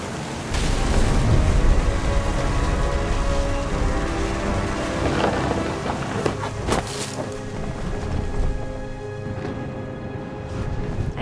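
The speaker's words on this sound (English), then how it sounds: "The thunder sounded much too close and full of angry power." Storm ambience in the video game What Remains of Edith Finch, with dense rain hiss and wind over a low rumble of thunder, plus a few sharper cracks midway, steady and full throughout.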